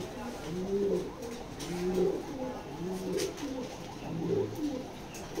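A female racing pigeon coos in repeated low, rolling phrases, about five close calls over steady faint background noise.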